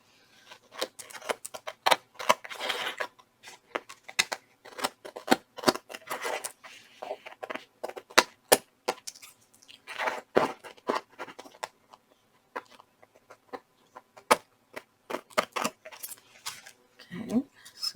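Quick crisp snips of scissors cutting fabric, scattered irregularly at close range, with light rustling between cuts.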